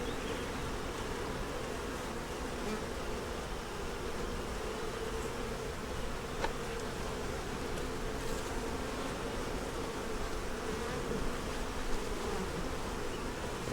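Honeybees buzz densely around an open beehive full of honey, nectar and hatching brood, making a steady, close, continuous drone with no talking.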